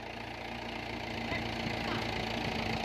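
A Mahindra Bhoomiputra tractor engine runs steadily under load while leveling farmland with a 575 kg wheel, a loud, continuous low diesel drone with faint knocking, and voices come in briefly over it.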